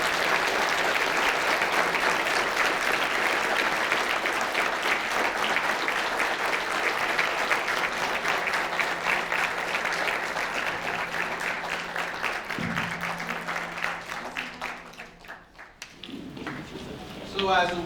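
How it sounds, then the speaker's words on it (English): An audience at a talk applauds the speaker with sustained, dense clapping that gradually thins and fades out, followed by a voice speaking near the end. "let's give her another round of applause"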